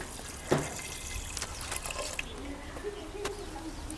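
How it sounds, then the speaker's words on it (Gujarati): Water pours into a pot of lentils in a steady stream, sloshing and splashing after an initial clatter, with a few knocks near the end. "દાળ નાખી દીધી છે આમાં અને આપણે પાણી નાખી દઈશું"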